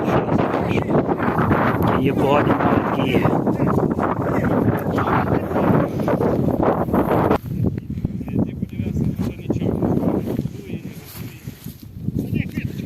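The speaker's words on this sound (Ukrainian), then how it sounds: "Трохи вітер, друзі." Heavy wind buffets the microphone in a loud, low rumble outdoors at a horse pasture, with people talking underneath it.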